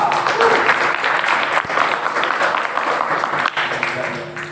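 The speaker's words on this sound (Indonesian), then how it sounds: "Aplaus lah." Audience applause at an Islamic anniversary gathering, a dense, steady clapping that fills the whole stretch and tapers slightly at the end, with faint voices under it.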